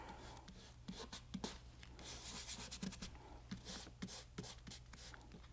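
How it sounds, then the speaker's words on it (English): Repeated rubbing strokes burnish a paper snowflake masking card flat against a card, a soft, close scratchy sound in uneven bursts over a steady low hum. "This side, rub away from the edge."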